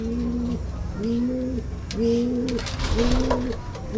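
A racing pigeon coos repeatedly and close by while being fed, its low rolling calls coming roughly once a second, with soft rustling and faint pecking clicks around them.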